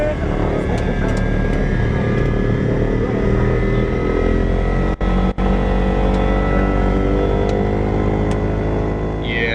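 A small propeller aircraft on a flight to Kaieteur Falls, its engine droning loud and steady from close by with a low harmonic hum that barely changes throughout.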